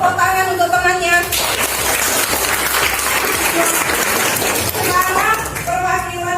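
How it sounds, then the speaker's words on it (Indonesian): Classroom applause for a student who answered correctly, a dense burst of clapping from many children lasting several seconds, with a teacher's voice talking over its start and end. "Tepuk tangan untuk temannya."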